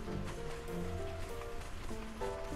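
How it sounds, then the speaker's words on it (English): Rain falling steadily in the video game Conan Exiles, a constant soft patter that holds through the whole stretch alongside faint game tones. "And yes, there's rain."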